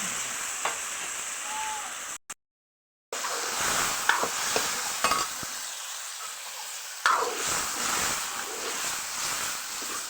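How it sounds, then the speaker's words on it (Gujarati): Potatoes and pigeon peas cooking in a spiced masala, a steady sizzle with occasional stirring clatter and a brief dropout near the start. "મસાલો આપણો એકદમ મસ્ત મજાનો પાકી ગયો છે. તો એમાં આપણે નાખી દઈશું બટેટા અને તુવેર."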